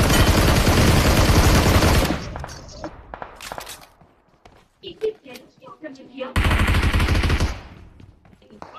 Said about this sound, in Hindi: ये पीछे से गोली चला रहा है